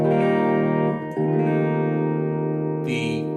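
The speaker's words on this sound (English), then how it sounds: "basic standard round clean tone, selection number 1" A Blackstar ID Core Stereo 10 V3 amp on its basic round clean tone rings out with sustained, chorused guitar chords, loud and alone, with a chord change near the middle and a brighter strum toward the end.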